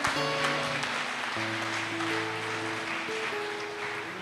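A church congregation applauds during an evening service, a continuous broad wash of clapping mixed with soft sustained organ or keyboard tones, moderately distant and without speech.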